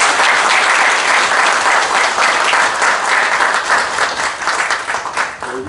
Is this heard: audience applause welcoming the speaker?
yes